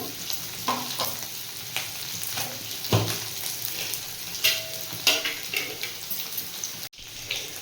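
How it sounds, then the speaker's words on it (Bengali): Potatoes fry in hot oil, a steady bubbling sizzle close by, with scattered clinks and scrapes of utensils, a sharp knock near the end, and no voices. "আলুটা যতক্ষণে ভাজা হতে থাক"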